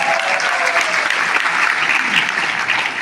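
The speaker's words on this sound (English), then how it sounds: "Let's give the education jar a round of applause" A large seminar audience at a Millionaire Mind Intensive breaks into a dense, sustained round of applause, loud and steady throughout with no break.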